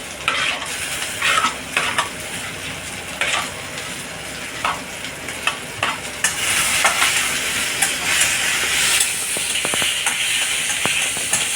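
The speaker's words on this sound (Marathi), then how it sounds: "कांदा थोडा परतला त्यानंतर त्यात टमॅटो घालायचे" Onion and tomato sautéing over high heat in a pan for street-style Hakka noodles, a continuous loud sizzle punctuated by repeated spoon scrapes and clinks against the metal, growing hissier as the tomato goes in.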